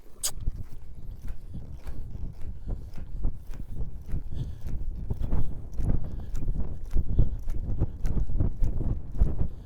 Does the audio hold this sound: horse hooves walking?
yes